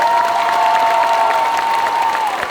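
Audience at a cosplay contest applauding the Minister of Culture, steady crowd clapping and cheering with a sustained whistle-like tone running through it.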